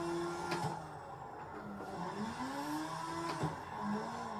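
Racing video game car sounds while a handbrake on a Logitech G29 wheel setup is pulled, steady engine drone with tire squeal and skid tones sweeping through, plus sharp clicks near the start and end.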